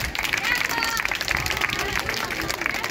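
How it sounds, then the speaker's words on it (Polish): Street audience applauding at a jugglers' carnival in Lublin, lively outdoor clapping with crowd murmur, sustained for a few seconds and heard close to the crowd. "Dobrze, wielkie brawa dla Kondzio tutaj."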